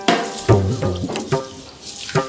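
Water running from a tap into a container, splashing and gurgling in short uneven bursts, close and fairly loud in a home kitchen.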